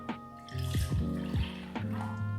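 Milk pouring into a small pot while making hot chocolate outdoors, a close liquid splash and trickle with a hum underneath, lasting a couple of seconds.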